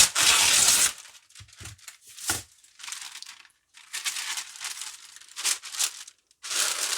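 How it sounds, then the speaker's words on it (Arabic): Parchment paper crinkled and pressed over a roast chicken in a baking pan, heard as close, loud bursts of crackling and rustling paper, starting with a sharp crumple and continuing in uneven handling noises. "نغطيها كده بورق الزبدة الأول، وبعدين نجيب ورق الفويل بتاعنا"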